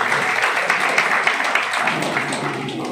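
A festival audience in Satara applauds steadily through the opening ceremony, a dense, even patter of many hands clapping at moderate distance, sustained without a break and with no voices standing out.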